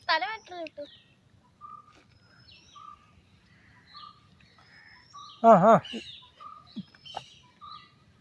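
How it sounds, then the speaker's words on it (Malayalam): Chirping bird calls at home, a few short, faint whistled notes repeating through the clip, heard alongside cat sounds and a voice that come and go. "എങ്ങാണ്ട് കിളിയുടെ ശബ്ദം കേട്ട്"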